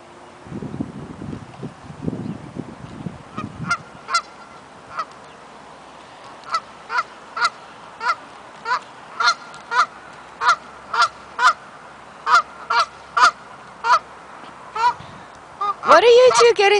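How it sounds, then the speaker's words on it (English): A goose honks repeatedly in a steady series of loud, sharp calls, preceded by low murmuring voices and ending with a burst of louder sound. "there's great big geese over here."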